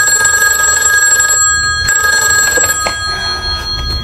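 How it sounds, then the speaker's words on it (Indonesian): A telephone rings loudly in a film scene, its bell sounding in steady repeated bursts over a faint room background, with no one speaking. "terbangun setelah mendapat telepon dari ruang kerja adiknya"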